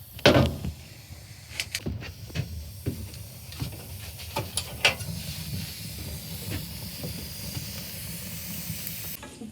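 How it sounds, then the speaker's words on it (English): Soft continuous hiss of beans and hot dogs steaming over a wood stove, dotted with scattered crackles and pops from the burning wood, heard up close. "Put my beans on the fire."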